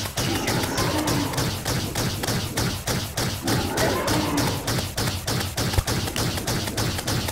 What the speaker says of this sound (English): Man, that is a lot of stingers. I didn't realize just how many stingers she shoots.